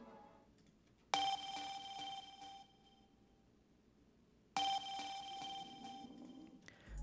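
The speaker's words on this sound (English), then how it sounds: "And this is like a little effects sound from Alex Che's Onion Serum Bank." Serum synth effects sound from Alex Che's Onion Serum Bank, two bright sustained bursts with a sharp onset and ringing tonal edge, separated by near silence, played alone.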